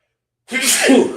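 A single sharp sneeze bursts out after a moment of silence, close and loud, with a breathy, hissing release.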